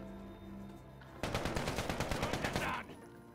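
A steady automatic burst from an AK in Call of Duty: Modern Warfare rattles out about a dozen rapid, evenly spaced shots lasting roughly one and a half seconds, loud and close after a quiet lead-in.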